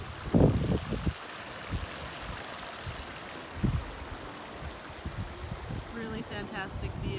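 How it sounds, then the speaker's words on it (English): A fast babbling brook runs beside a patio at a Sun Valley, Idaho home, a steady distant rush of water under a few soft knocks and brief quiet talk. "Babbling Brook. Really fast."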